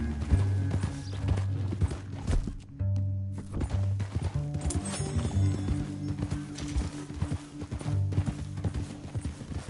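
A horse gallops in a video game with quick rhythmic hoofbeats in a steady clip-clop, close and loud, with a low droning backdrop and occasional thuds.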